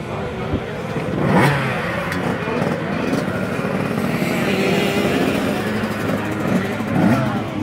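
Motocross motorcycles at a race with several classes on the track at once, their engines revving and droning loudly and continuously, rising and falling as the bikes pass.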